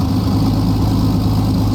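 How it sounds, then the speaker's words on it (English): A P-51D Mustang's piston engine idles at about 1000 RPM in a flight simulator, a loud, constant low rumbling drone with an even texture and no speech over it. "we'll leave the engine idling at 1000 RPM"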